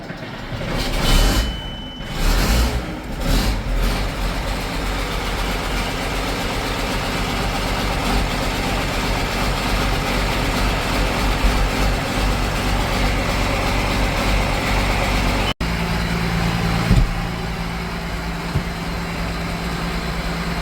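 Two vehicle engines idle together in a continuous low rumble, with a few sharp knocks and clatters near the start and a faint tone late on, and no talking.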